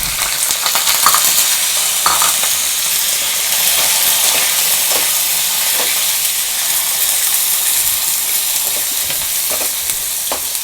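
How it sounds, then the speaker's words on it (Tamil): Chicken liver frying in a pan with spices as it is stirred: steady close sizzle and hiss with repeated scraping stir strokes, no voices. "ஸ்பைசஸ் போட்ட உடனே சிக்கன் நீரில் போட்டுக்கோம்."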